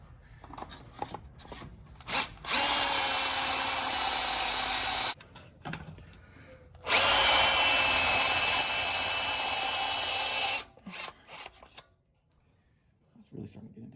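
A power drill bores into metal lubricated with WD-40 during an Oldsmobile Cutlass transmission install: two long, harsh grinding bursts separated by quieter handling noises and faint sounds.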